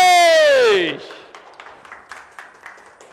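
A falling voiced exclamation gives way to a few scattered, light hand claps from a small audience at a health product presentation, sparse and moderately close.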